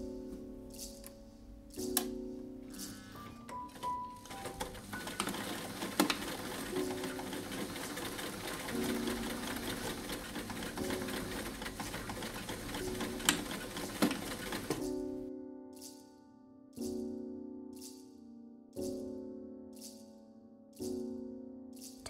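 Sewing machine running a regular straight stitch to join silk pieces for a French seam, a steady mechanical whir for about fifteen seconds, then short separate bursts of stitching with brief pauses between them.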